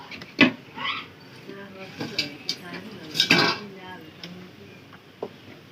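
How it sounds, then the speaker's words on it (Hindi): A cooking pot of curry being covered with a lid and lifted off the stove, heard as metallic clanks and clinks of lid and vessel, a few sharp knocks among softer scrapes, with a person talking throughout. "और अब इसको हम ढक देते हैं और नीचे उतार देते हैं"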